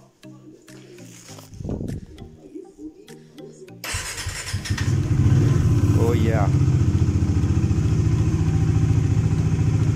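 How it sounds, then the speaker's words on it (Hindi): Electric self-starter cranking a Bajaj Dominar 2022 motorcycle engine until it catches and settles into a loud, steady idle, with a short speech-like sound and clatter beforehand. "एक बार सेल्फ ले लेते हैं।"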